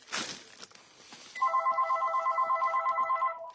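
A telephone rings indoors in a craft room, its electronic bell repeating in rapid pulses for about two seconds after a brief clatter, fairly loud with no talk over it.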